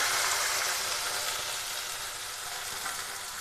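Coriander and garlic paste sizzles and fries in a pan while rasam is being made, a steady broad hiss that stays close and fairly loud with no talking.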